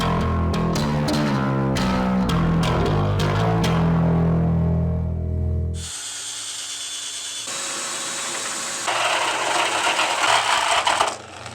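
A power saw grinds and chatters through the metal tank of a 20-year-old water heater, loud and uneven, then the pitch shifts to a harsher, higher whine as the blade keeps cutting.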